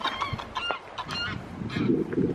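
Geese honk close by outdoors in East Iceland, a burst of repeated nasal calls from several birds in quick succession, moderately loud against light wind.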